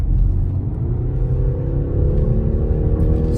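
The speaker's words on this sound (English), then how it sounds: "So now you can definitely hear the engine." A BMW X3 30e plug-in hybrid's engine pulls under acceleration with a steady low rumble and a rising drone, heard from inside the car with no talking.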